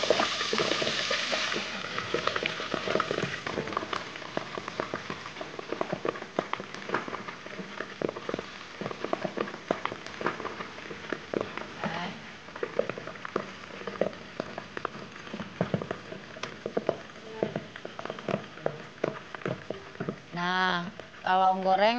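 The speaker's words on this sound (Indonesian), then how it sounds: "kalau goreng mesti harus hati-hati ya ibu-ibu karena pasti peletak-peletok takutnya kena kulit, terbakar" Hot oil pops and crackles steadily while frying paru kering, a Padang-style dried beef lung, in a home kitchen, a dense crackle with people talking over it.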